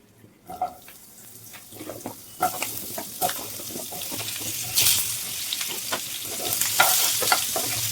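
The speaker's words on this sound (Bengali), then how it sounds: "এবার আমি ওই তেলের মধ্যে এই যে আলুগুলো আছে ভেজে নেব" Potato pieces fry in hot oil already seasoned with dried chilli and bay leaf, a close, steady sizzle that builds louder over time, with repeated spatula scrapes and clatter against the pan and no talk.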